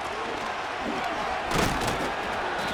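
Stadium crowd roar from a football video game, Bills versus Commanders, as a steady dense wash of noise that swells briefly midway and stays loud throughout.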